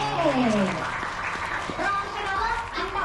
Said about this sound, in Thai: ปรบมือให้กับผู้ที่ได้รับรางวัลของเรานิดนึงค่ะ